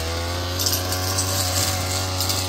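A string-trimmer style brush cutter trims grass around the edges of a flat grave at a hillside burial plot during late-summer grave tending, its engine a steady, loud, continuous drone with no talk.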